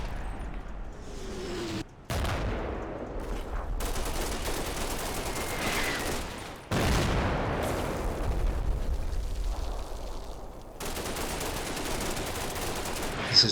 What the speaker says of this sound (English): This is all preventive fire.